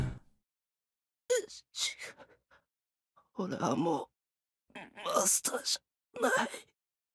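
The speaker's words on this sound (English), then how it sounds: "The girl gasps as if surprised." Girl in the Fate/Stay Night visual novel gasping and breathing in surprise, several short close breathy bursts separated by silence, with a sharper exhale near the start.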